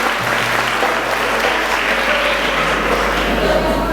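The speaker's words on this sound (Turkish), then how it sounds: "Star Artı'yı alkışlar mıyız?" Audience applause at a campaign event distributing battery-powered vehicles to disabled people, loud and continuous throughout, with a low hum underneath.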